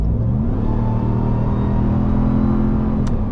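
A 2021–2023 RAM 1500 TRX, the 702 hp Hellcat-engined truck, pulls hard in sport mode, its deep engine drone rising steadily and loud from inside the cab, with a continuous heavy rumble throughout.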